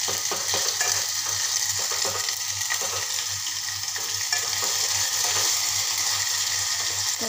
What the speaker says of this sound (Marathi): मी लसूण जिऱ्याची पेस्ट घालत आहे व त्याला पण छान असं मस्त तेल सुटेपर्यंत परतून घेणार आहे